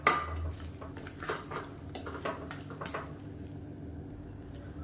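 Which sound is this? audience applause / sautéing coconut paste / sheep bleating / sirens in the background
sautéing coconut paste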